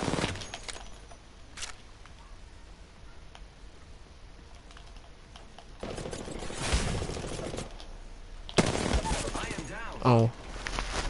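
Gunfire in the battle-royale shooter Apex Legends, with a few bursts of rapid shots amid faint game sounds and short loud blasts, and a player talking at times.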